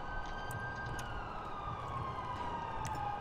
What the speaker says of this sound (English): Now we gotta follow the sirens back to our cars.